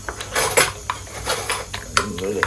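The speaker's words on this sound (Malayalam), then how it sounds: "ഇനി ഇതിപ്പോൾ എല്ലാം കൂടെ അടിക്കുമെന്ന് തോന്നുന്നു കേട്ടോ" Fork clinking and scraping against a bowl while beating an oats omelette mixture, a run of quick metallic taps and scrapes at close range, with faint talk in the background.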